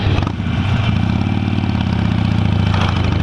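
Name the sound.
motorcycle engine idling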